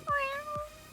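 A young child dressed in a dinosaur costume imitates a cat, giving a close, drawn-out meow-like call that rises and falls in pitch, with a second quick onset partway through.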